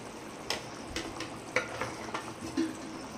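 Soft, irregular bubbling pops from a pot of dry fish curry simmering on the stove, quiet and close, with no voices.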